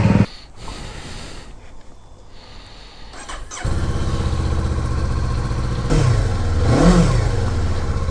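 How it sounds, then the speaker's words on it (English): A Kawasaki Eliminator 500 motorcycle cranks and fires up, settling into a loud, close idle before the engine revs rising and falling as the bike pulls away. "I'm going to take the bike for a ride now."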